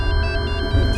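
A mobile phone ringtone rings loud and close, a steady tonal electronic melody that fills the moment without any voices over it.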